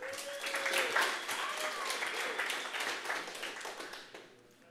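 An audience at a tech talk claps to welcome a speaker, a fairly soft, dense patter of many hands from a medium-sized crowd that holds steady, then trails off near the end.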